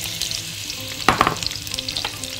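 Onions hit hot olive oil in a pan and sizzle loudly up close, with a sharp burst of crackling as they go in, then a continuous hiss with stirring scrapes.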